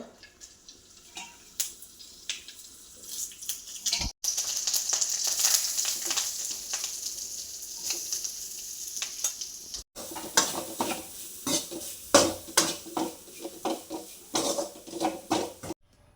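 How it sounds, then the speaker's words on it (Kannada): Grated coconut fries with masala in a pan, giving a steady sizzle with repeated scraping and stirring strokes that run on and off throughout, heard close and alone. "ತೆಂಗಿನಕಾಯನ್ನು ಸ್ವಲ್ಪ ಫ್ರೈ ಮಾಡಲಿಕ್ಕುಂಟು"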